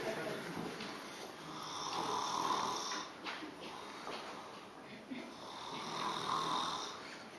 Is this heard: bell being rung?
no